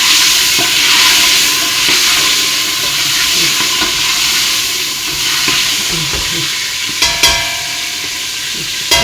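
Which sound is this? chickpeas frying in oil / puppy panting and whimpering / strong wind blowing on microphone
chickpeas frying in oil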